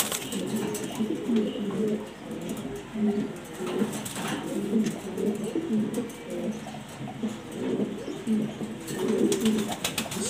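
A large male pigeon coos in repeated low, throaty phrases at close range, with soft background noise and no speech over it.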